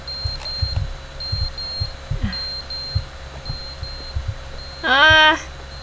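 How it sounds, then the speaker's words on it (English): Repeated electronic beeping from a fallen clock in The Stanley Parable Ultra Deluxe, thin regular tones over low thudding pulses, with a louder warbling burst near the end. "I'm gonna skip again just to get rid of the beeping."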